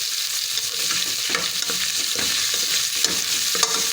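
Green chillies sizzle in a pan for moong dal khichdi, with repeated stirring scrapes over a continuous hiss of frying, close and fairly loud, no voices.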